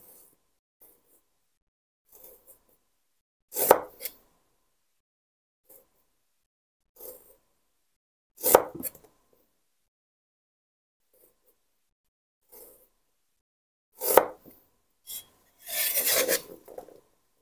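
A knife cuts thick slices of radish in separate bursts of rasping scrapes and dull chops, spaced several seconds apart against near silence, close and fairly soft, with no voices.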